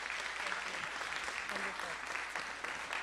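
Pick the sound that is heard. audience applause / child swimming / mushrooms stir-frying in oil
audience applause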